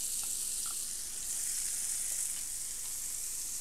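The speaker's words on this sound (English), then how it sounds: "We're going to go in with our onion." Chopped white or yellow onion sizzles loudly in a hot pan, a steady bright hiss with a few faint clinks of a utensil and no talking.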